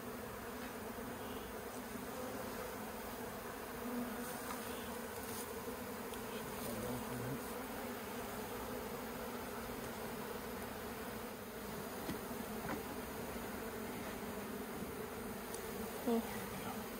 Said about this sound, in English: There's bees all over the place.